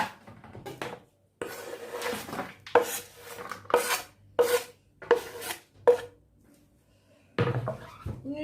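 Whole sea bream is set into a metal baking tray for oven roasting, with repeated scraping, rubbing and clattering bursts separated by short pauses, close and fairly loud.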